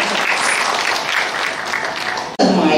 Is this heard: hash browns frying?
no